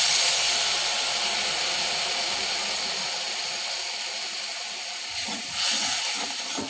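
Turmeric water poured into hot frying spices in a wok sets off loud, continuous sizzling and hissing that slowly eases, then briefly flares again toward the end.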